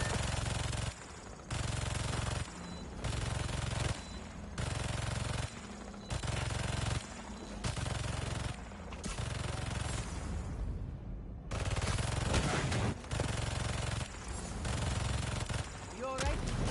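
Turret gunfire in the video game Spider-Man 2: loud, rapid automatic bursts repeat in a regular on-off rhythm, with one brief lull partway through.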